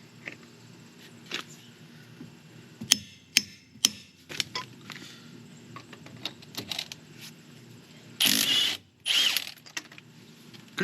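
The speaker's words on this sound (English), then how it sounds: "the extractor will extract it now" A locking lug nut being worked off a wheel with a lug nut extractor, giving sharp metallic clicks and ratcheting taps at scattered intervals, then two loud, dense bursts of ratcheting near the end, close and with no talking.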